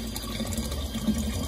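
Well water pours steadily into a storage tank through a fine screen, a continuous close trickling and splashing rush with no talk over it.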